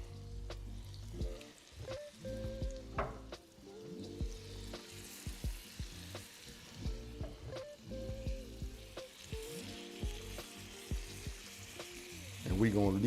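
Cajun-seasoned chicken pieces laid top side down in a hot pan, a steady close sizzle with scattered pops and crackles, over background music, with a louder burst right at the end.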